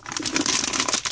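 A plastic piping bag for cake-decorating tips is folded inside out, giving a brief close burst of crinkling and rustling plastic.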